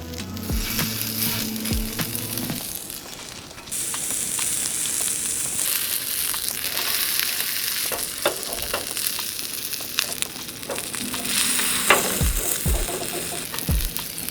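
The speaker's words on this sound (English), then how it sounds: "Now we're gonna fry up the Johnsonville sausage patties." Johnsonville sausage patties, cut in half, frying on a camp stove outdoors, a steady close crackling sizzle with occasional scrapes and taps of a utensil, with no talking.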